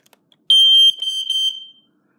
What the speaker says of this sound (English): Now I'm going to be testing this EI / ACO mains carbon monoxide alarm.